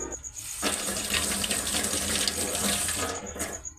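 Tap water runs into a bathroom basin as a toothbrush is rinsed. The stream starts abruptly and keeps up a steady, close gushing splash for about three seconds before it cuts off.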